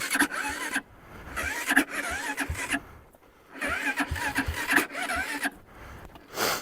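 Car starter cranking an engine with weak charging: repeated bursts of grinding, whirring cranking, each about a second long, separated by short pauses, fairly quiet and close.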